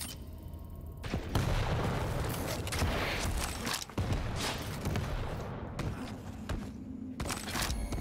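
Railgun shots and weapon fire ring out during a 1v1 Quake World Championships duel, with booming, punchy blasts over a dense layer of game noise, music and effects, several bursts close together with brief gaps.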